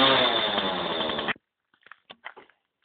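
A small Jawa motorcycle engine revs raggedly and loudly for just over a second, then cuts out abruptly, followed by a few faint sounds.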